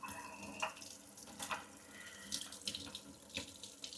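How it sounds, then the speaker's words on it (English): Hot water running from a sink tap, a soft continuous splashing stream with small irregular surges, heard close but quiet throughout. "You want to turn on the boiling hot water."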